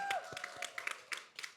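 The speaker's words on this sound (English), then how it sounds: "Let's give a round of applause to Fadum and her team." Sparse applause from a summit audience for Fadum and her team, a light scattering of individual claps, fairly faint and thin, lasting only a moment.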